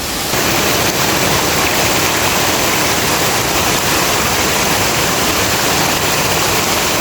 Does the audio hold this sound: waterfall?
yes